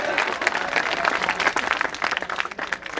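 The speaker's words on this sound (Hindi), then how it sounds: "तालियां बजाओ।" Audience applause at a talk in a village gathering, a dense steady patter of many hands clapping for three seconds with some voices mixed in, moderately loud throughout.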